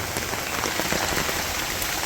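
Steady rain falling in a village, a dense, even patter of drops on surfaces that stays constant and fairly loud throughout.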